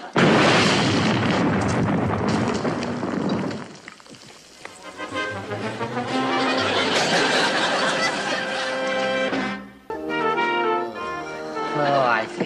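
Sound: grenade explosion in a TV comedy scene

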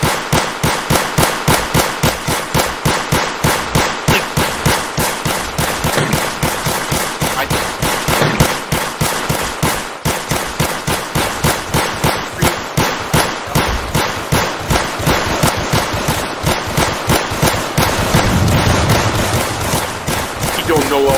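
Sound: gunfire shooting zombies in a video game

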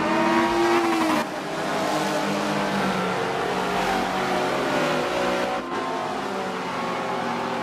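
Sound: race cars at Monza in video game Forza 7

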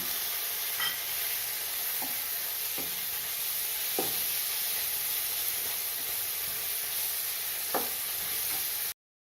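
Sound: sautéing chopped tomato with onions in a pan

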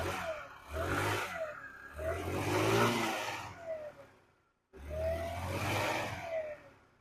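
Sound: Forte New Jog 80 scooter engine starting and running

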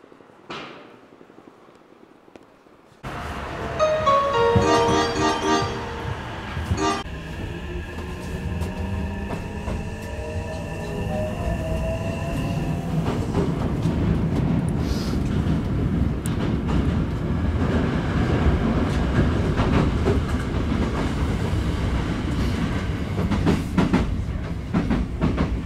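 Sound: Hankyu train riding, one station to Osaka Umeda

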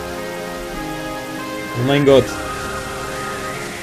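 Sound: rain falling in the video game Pokémon Black

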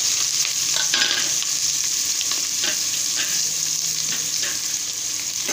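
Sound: onions frying and being stirred in a pan

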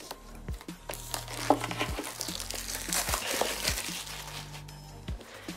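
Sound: opening HomePod Mini packaging

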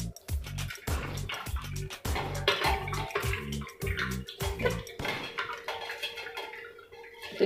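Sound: washing cheese curds in water

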